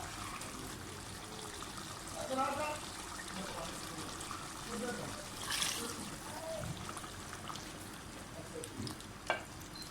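Water poured into a pot of Hyderabadi mutton masala with trickling and splashing, a low sizzle underneath, a clink near the end, and faint talking in the background.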